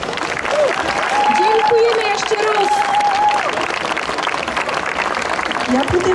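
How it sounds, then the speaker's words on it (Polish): An audience at the Gorolski Święto folk festival in Jabłonków applauds, a steady wash of many hands clapping throughout, with voices and a bit of crowd babble mixed in over the top. "należą sobie wielkie oklaski"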